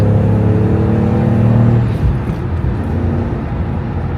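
BMW 850i E31 with a manual gearbox pulling hard under acceleration, a loud close engine roar that drops at a gear change and then continues rising, with no talk over it.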